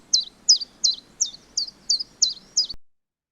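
A small cockatiel parrot chirps eight times in an even, regular rhythm, each call a bright, high tweet close by with no other sounds.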